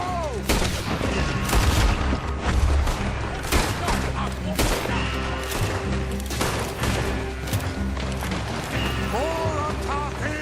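A Red Dead Redemption 2 gunfight with rapid, overlapping rifle and pistol shots cracking loudly and continuously, mixed with crashes and shouting voices.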